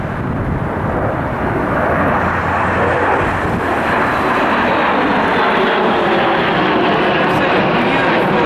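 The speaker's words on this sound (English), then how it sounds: "There is one more plane, two planes flying." Loud, steady roar of airplanes passing overhead, a broad continuous rumble filling the whole stretch, with faint voices underneath.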